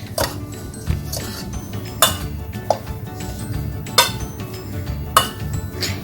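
A spoon mixes garam masala, pepper and chili powder in a bowl for a sweet and spicy popcorn snack, giving irregular bright clinks and scrapes against the bowl over a steady low background, with no talking.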